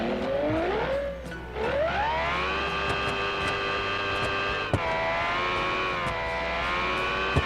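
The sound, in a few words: car engine revving high in video game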